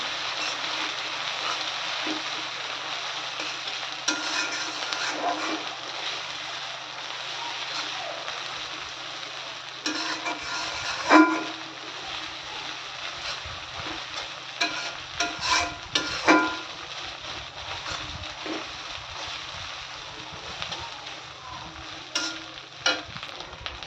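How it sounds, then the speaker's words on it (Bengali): Ingredients sizzle in a pan with a teaspoon of garlic paste while prawns are cooked with taro stolons and dried fish. Steady hiss and crackle throughout, with occasional stirring scrapes and louder pops. "এবার সবগুলোকে একসাথে ভেজে নেব"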